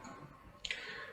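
A small ballpoint pen gives a single sharp, faint click up close, brief and isolated against a quiet room background.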